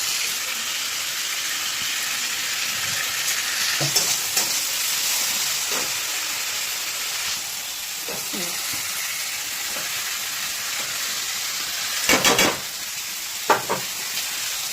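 Grated paneer sizzles and is stirred in hot oil with spices for paneer bhurji, a steady close frying hiss broken by a few louder scraping bursts near the end.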